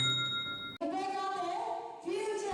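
A bright bell-like ding rings out with a sustained tone, then cuts off abruptly into a different tonal passage.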